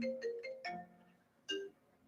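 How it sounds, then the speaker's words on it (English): A phone ringtone for an incoming call, playing a short melodic run of bright electronic tones with a repeated phrase, fairly clear and alone with no talk over it. "I'm getting a call while we're live."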